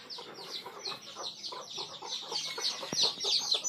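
Desi hens cluck steadily as they emerge with their chicks, while high peeping calls from the chicks repeat rapidly throughout, close and lively, with one sharp knock partway through.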